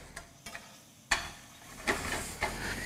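Soft-shell crab fries in butter and oil in a pan, a quiet close hiss punctuated by several sharp spatters and pops that swell into brighter sizzling bursts.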